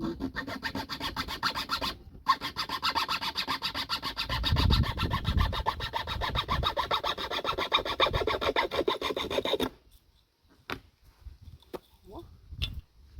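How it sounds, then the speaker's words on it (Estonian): A hand saw rasps through wood in steady, close back-and-forth strokes while a cat ladder is being built. The sawing stops abruptly near the end, leaving a few light knocks and handling noises. "see on ikka kõige parem saag üldse"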